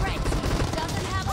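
Kar98 rifle gunshots in a video game, heard as dense, loud bursts of gunfire that blur into busy, continuous combat noise through the whole moment.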